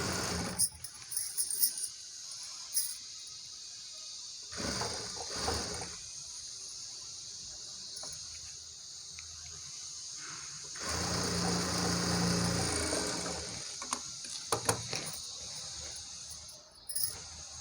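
A sewing machine runs in short bursts, stitching a double seam on saree fabric being made into a long frock, a faint whirring rattle that starts and stops between quieter pauses.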